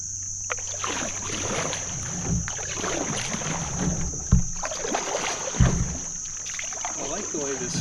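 Solo paddler kneeling in a Northstar Northwind Solo canoe, with soft paddle strokes and water sloshing against the hull, light wind noise over the mic and a few louder knocks from the paddle near the boat.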